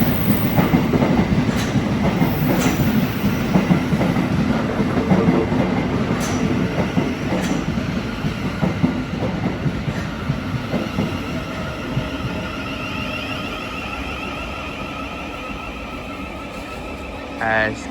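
Thameslink Class 700 electric train at a London station, a rumbling rolling clatter with intermittent sharp clicks and a rising electric whine near the end, under a voice.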